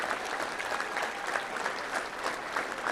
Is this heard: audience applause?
yes